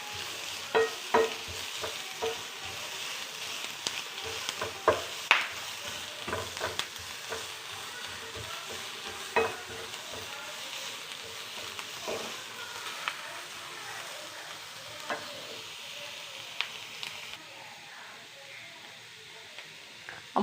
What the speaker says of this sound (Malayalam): നമുക്ക് നന്നായി ഇളക്കി വഴറ്റിയെടുക്കാം.